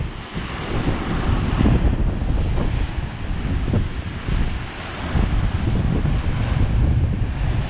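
Stormy sea surges and crashes under North Pier in Blackpool, a loud continuous roar of breaking waves buffeted by heavy wind rumbling against the microphone.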